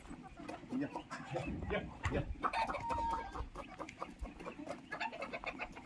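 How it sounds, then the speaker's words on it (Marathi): A village rooster clucks and grumbles close by among scattered chicken sounds, while people scatter grain to catch it and talk and move around nearby. "दाणे टाकून आपण कोंबडा पकडायचा"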